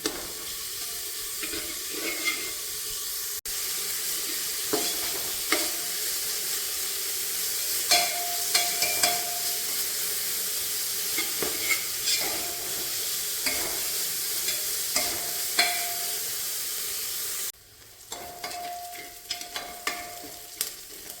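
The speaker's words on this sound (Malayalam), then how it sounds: "രണ്ട് പച്ചമുളക് എല്ലാം കൂടെ നന്നായിട്ട് ഇളക്കിയെടുക്കാം" Ginger, garlic, green chillies and onion fry in a pan for vegetable biryani, a steady sizzle broken by repeated scrapes and taps of a stirring spoon, with a brief muffled stretch near the end.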